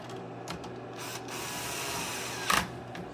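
Screws are driven into the corners and sides of a PS5 Slim console during an HDMI port repair. A faint, steady mechanical whir carries on throughout, with a brief, louder burst near the end.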